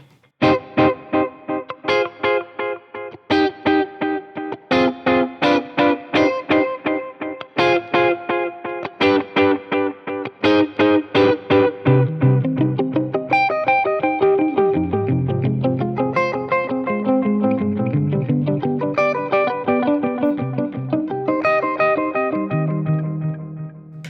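Electric guitar played through an Axe-Fx III delay effect, rapid plucked notes trailed by repeating echoes that smear and degrade as they fade, building into a dense, ringing wash of overlapping tones with no voices.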